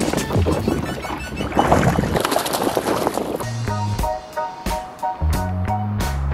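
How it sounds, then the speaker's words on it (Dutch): Fishing boat motoring along the starboard side of a canal, a steady engine and water rumble with wind noise on the microphone, later joined by a few sharp knocks and clatters. "Ik vaar weer even terug langs de rechterkant,"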